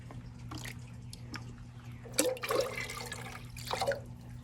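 Diluted comfrey tea is poured over okra and bean plants in a garden. It gives scattered soft drips and splashes, then louder gushing bursts of water over a faint steady hum.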